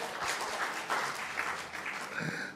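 A church congregation applauds during a sermon, a moderate crowd clapping that swells in uneven bursts and tapers off near the end.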